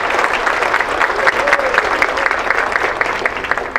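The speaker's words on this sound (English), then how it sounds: "Big round of applause for Courtney Garcia." Sustained audience applause fills a charity dance fundraiser for the homeless, a dense, steady wash of many hands clapping loudly and close for several seconds with no pause.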